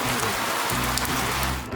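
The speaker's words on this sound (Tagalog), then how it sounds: "May umuulan sa loob nito!" Steady patter of rain falling inside an upside-down magic umbrella in a Spider-Man multiverse toy setting, a dense continuous hiss of drops with a low hum underneath, close and even throughout.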